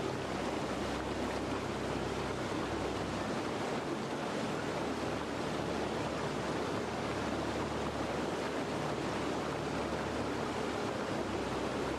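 A waterfall's flowing water makes a dense, loud, steady rushing roar throughout, broadband and unbroken, with some wind buffeting and no voices.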